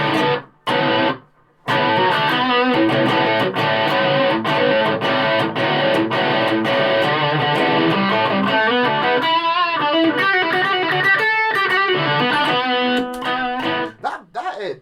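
Distorted electric guitar played through a Carlton HGS100 amp with reverb switched off, loud chords and riffs with brief stops near the start and end.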